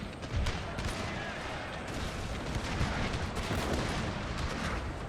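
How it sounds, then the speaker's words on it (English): Distant cannons and matchlock muskets fire continuously in a Total War battle set in the Thirty Years' War, with dense overlapping pops and booms that form a rumbling, crackling barrage. "Cannons and matchlock fire."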